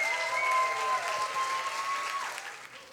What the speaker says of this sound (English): now with a warm round of applause, please say goodbye to all the slammers except for number 1.